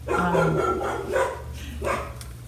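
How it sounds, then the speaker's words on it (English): A dog barks in a few loud, close bursts indoors, the yaps rising over a steady low hum, with a brief whimpering edge between them. "waited for my dog to stop barking because it got a lot worse"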